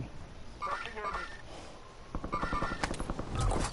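Rapid gunfire from a new gun in a Call of Duty–style multiplayer shooter, a quick run of sharp shots in the second half, heard under excited talk from players.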